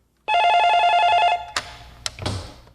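Telephone ringing at a hotline call centre, one loud electronic trill lasting about a second, followed by clicks and handset pickup clatter, close and without speech.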